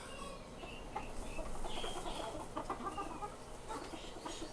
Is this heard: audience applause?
no